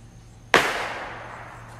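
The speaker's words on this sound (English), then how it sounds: "Firework! Firework! Firework!" A single firework goes off outdoors at a Fourth of July celebration, one sharp close bang whose noisy crackling tail fades slowly.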